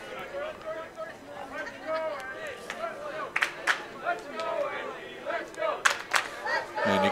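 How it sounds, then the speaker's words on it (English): Spectators at a boys' youth soccer match chant in a rhythmic, rising and falling crowd sound from just below an elevated broadcast position, mixed with a commentator's talk. "you can probably hear the crowd just below our broadcast position here, getting the chant of "Let's go NB, let's go" going"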